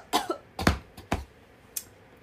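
A person coughs and clears their throat during an Indonesian livestream, with three short rough bursts in quick succession and a smaller fourth one, close and fairly loud, with no speech.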